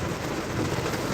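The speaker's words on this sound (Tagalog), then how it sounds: "Grabing lakas ng ulan." Heavy rain pours in a steady, dense roar on a busy street in heavy traffic, loud and unbroken throughout with no talk.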